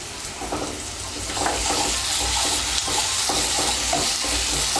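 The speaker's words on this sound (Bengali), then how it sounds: "রসুন বাটাটা পেঁয়াজের সঙ্গে মিশিয়ে নেব।" Garlic paste gets stirred into onions frying in oil, with a bright, constant sizzle and repeated scraping strokes of the spoon against the pan, close up.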